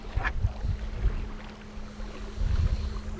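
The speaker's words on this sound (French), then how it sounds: "il y a les pompes là. C'est pour arroser les champs ça." Irrigation pumps for watering fields hum steadily from a canoe on the water, a constant low drone running under soft paddle and water splashes.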